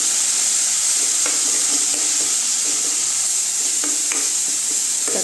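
Tomatoes sizzling with softened onions and a little salt in a pan, a steady bright fry hiss throughout, broken by a few soft scrapes and clicks of stirring.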